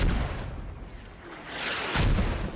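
Mortar rounds detonating in the military shooter Squad, a continuous rumbling barrage of booms with a louder nearby blast near the end, heavy low-end thunder throughout and no talking.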